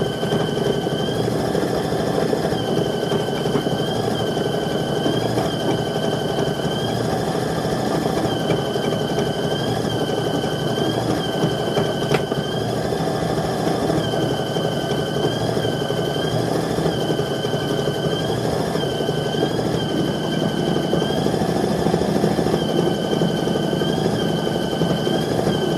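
A sewing machine stitches through a quilt in a steady, continuous mechanical whir with a faint repeating tonal hum, running close and evenly for the whole stretch with no voices over it.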